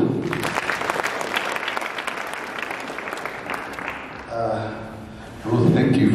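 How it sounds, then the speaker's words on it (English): Mourners at a memorial service for Auntie Ruth give a loud, sustained round of applause that fills the first four seconds, then fades as a voice begins speaking, with talk continuing to the end. "A loud clap for Auntie Ruth."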